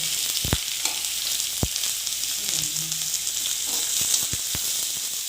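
Finely chopped onions sizzle in a pan of cumin that has been lightly roasted, part of a paneer and capsicum curry. A steady, close frying hiss continues throughout with a few sharp clicks and stirring knocks, and no speech.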